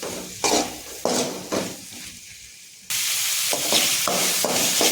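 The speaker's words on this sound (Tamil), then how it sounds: "சேர்த்துட்டு இது 2 மிக்ஸ் ஆகிட்டு நல்லா கிண்டணும்" Chopped tomatoes being stirred in a frying pan for an egg gravy, repeated scraping strokes over a sizzle that drops briefly, then returns loud and steady with more stirring, no speech.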